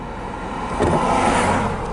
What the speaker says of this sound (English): Got a car coming up on us,